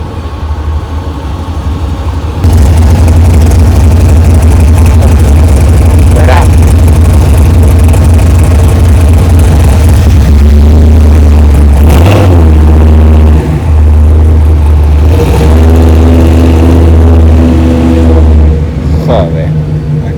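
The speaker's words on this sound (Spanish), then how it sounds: "nada más que el sonido asusta del acelerón que ha dado" A car engine roars loudly and close, its pitch climbing and falling through several hard revs over a constant heavy rumble, with voices partly mixed underneath.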